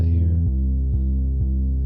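A compressed synth bass sounding steady, sustained notes, changing pitch about every half second, with a low throbbing hum and no voices.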